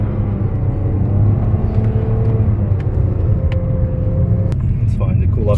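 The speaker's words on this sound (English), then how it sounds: "Burning these tires." A car spins its tires on ice at a winter track day at TMP Cayuga, giving a steady, loud engine rumble and whir that holds throughout while people talk over it.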